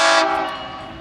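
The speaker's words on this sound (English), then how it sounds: "that's a good train. Loud horn." A loud train horn blast from a passing short train sounds close and strong at first, then quickly fades into a lingering, dropping tone within about a second.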